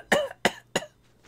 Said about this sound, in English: And now she's going to cough.